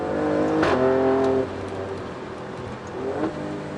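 Alfa Romeo Stelvio Quadrifoglio SUV engine pulling hard in a low gear, rising harmonics swelling loudly then a quick gear change at about 1.5 s and a second shorter surge near the end, close and dominant.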